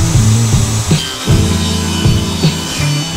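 Dado blade on a table saw grinding through test pieces of pallet wood, a loud, steady cutting roar with several short bursts as each piece passes through the blade.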